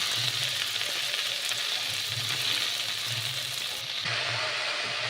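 Chopped spinach greens frying in a pan over a tempering of fennel, mustard and cumin, with a steady close sizzle and crackle and faint stirring throughout, no talk.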